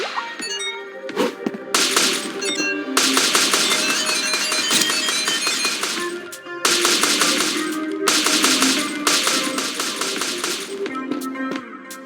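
Rapid automatic gunfire in the video game Crisis Point Extinction comes in long, loud bursts of sharp cracks, separated by brief pauses, close and with no talking.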